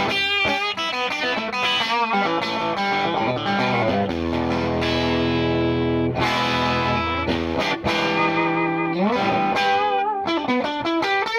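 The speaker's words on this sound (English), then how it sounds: "And then the back pickup sounds like this." Played on the back pickup, a 1953 Heavy Relic Fender Telecaster electric guitar rings out bright, twangy, lightly distorted chords and single-note runs, with sustained notes and quick flurries, alone and fairly loud.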